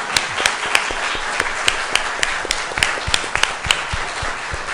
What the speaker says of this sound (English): can we give this panel a round of applause for the